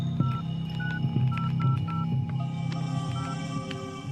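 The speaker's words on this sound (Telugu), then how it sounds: "అర్జెంటుగా ఇంటికి ఒకసారి ఫోన్ చేసుకుని ఉంది" Telephone keypad tones beep in short, evenly spaced pairs over a steady low hum, close and clear, several digits entered in quick succession with no voices.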